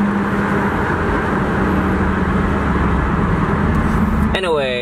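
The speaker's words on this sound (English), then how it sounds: "Hopefully the wind noise is not too bad." Inside a Lexus SC430 with an Injen short ram intake, steady broadband wind noise roars throughout while driving, with a low engine hum beneath and a brief rustling sweep near the end.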